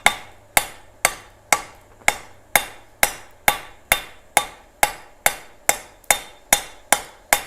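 Hammer blows on hot metal on the flat face of a blacksmith's anvil, fifteen sharp ringing strikes in an even, steady rhythm, loud and close, with each ring fading before the next blow and no talk.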